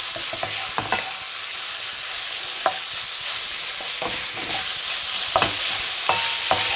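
Onion frying in a pan over a gas flame for a chicken ginger stir fry, a steady broad sizzle with sharp clicks and scrapes of stirring scattered throughout, close and fairly loud, no voices.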